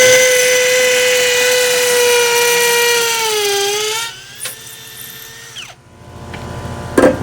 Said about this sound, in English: he had to put it on the hammer drill setting to make it go down.